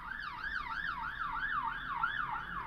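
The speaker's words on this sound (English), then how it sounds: "it actually was an ambulance this time" An ambulance siren wails outside in a steady repeating up-and-down pattern, fairly distant and continuous, with no other sounds over it.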